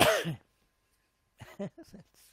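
A single short, sharp sneeze bursts out at the start of a live stream, followed by a pause of silence and then a few spoken words.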